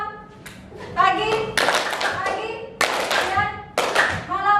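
A class plays a rhythm clapping game, bursts of group hand claps in short patterned sets separated by pauses, with children's voices and a teacher calling out between the rounds.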